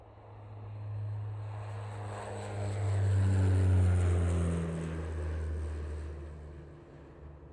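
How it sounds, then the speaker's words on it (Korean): A small propeller plane takes off from a little airfield beside a blueberry farm, towing a glider behind it; a steady, droning engine hum swells and holds, loudest mid-clip, then eases slightly, with no talking. "마침 그때 작은 비행기가 또 다른 비행기를 매달고 막 이륙했다."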